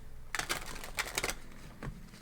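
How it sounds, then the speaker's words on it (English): A deck of tarot cards is shuffled close by, in a soft, quick flurry of papery riffles lasting about a second, then a single fainter flick; no talk. "We're going to begin shuffling, and then we will bring in more oracles after the tarot portion of your reading."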